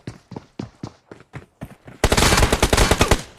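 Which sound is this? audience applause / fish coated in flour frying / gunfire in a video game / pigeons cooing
gunfire in a video game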